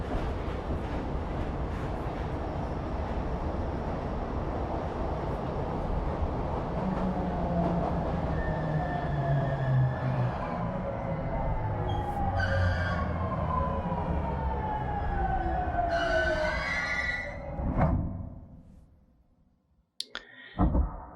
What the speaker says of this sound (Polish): dojechaliśmy w nowe miejsce. Drzwi pociągu się tutaj otwierają